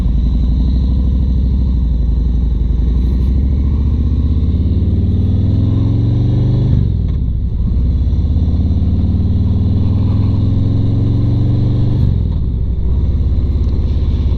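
Motorcycle ridden on a road on a mild day, its engine droning steadily and loud throughout with rising revs, easing off briefly around seven and twelve seconds as gears shift, with no talking.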